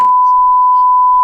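A steady, loud censor bleep, a single pure electronic tone, holds unbroken for just over a second with nothing else beneath it.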